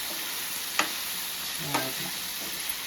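Chicken liver with pepper powder frying on low heat in a pan, a soft steady sizzle with a couple of brief stirring clinks and scrapes, no talk.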